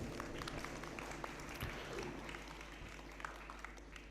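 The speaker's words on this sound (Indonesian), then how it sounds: "Tepuk tangan Bapak Ibu." Parents applauding at a graduation thanksgiving ceremony at an Islamic boarding school: faint, distant clapping from a crowd over a steady low hum, fairly even throughout.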